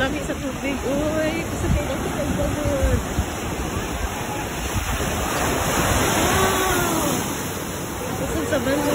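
Ocean waves breaking at Bronte Beach in Sydney, beside the ocean pool: a loud, continuous close-up surf roar that swells and eases, with people chatting over it.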